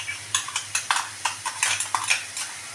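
A metal spoon scrapes and taps against a pan while tomato paste is stirred into chicken, a quick run of about a dozen close, sharp clinks and scrapes over a low steady hum.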